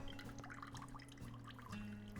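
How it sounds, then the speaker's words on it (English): Bread dipped briefly in water for an Italian snack, with soft dripping and trickling sounds running steadily throughout, close and fairly quiet over a low background hum. "Then dip in water, not for long."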